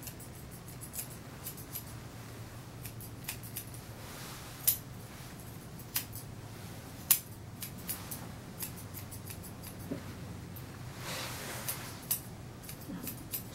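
Scissors snip steadily through a Shih Tzu's fur during grooming, a series of close, crisp metallic cuts in irregular rhythm over quiet room tone, with a few sharper snips standing out.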